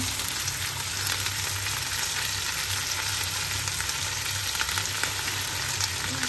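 Yakisoba noodles stir-frying in a pan give a dense, continuous sizzle with faint tossing and scraping, steady and close throughout, with no voices.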